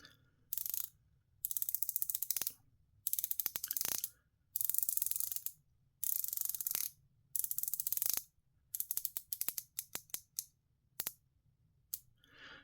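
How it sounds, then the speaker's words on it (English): A titanium 120-click unidirectional diving bezel with a ball bearing mechanism on a Timascus dive watch ratchets in rapid bursts of crisp, close clicks, separated by short pauses of silence. "you have a 120 click unidirectional diving bezel, which now features a ball bearing mechanism."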